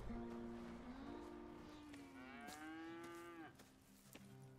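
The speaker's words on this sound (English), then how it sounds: "Here's the cows." A single cow on a farm in Red Dead Redemption 2 lets out a long, drawn-out moo that wavers and rises, followed by a second low bellow, heard fairly clearly over faint background ambience.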